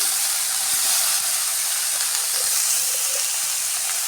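Broad beans being sautéed in a pan give off a steady, close hiss and sizzle that holds evenly throughout, with faint scattered crackles and no talk.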